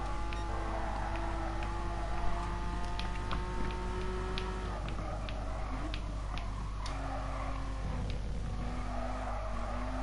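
Race cars, including a final-edition Mitsubishi Lancer Evo 10, run in Gran Turismo Sport with a steady engine drone and repeated tire squeals and skids, loud and continuous throughout.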